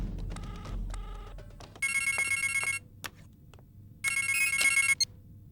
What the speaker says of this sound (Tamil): ரிங் போயிட்டு இருக்கேன், இந்தாங்க.